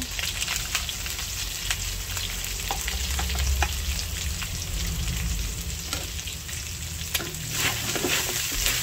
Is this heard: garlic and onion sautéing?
yes